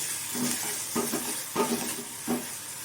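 Ginger garlic paste with onions fries in a pan, a steady sizzling hiss broken by several scraping stirs at regular intervals.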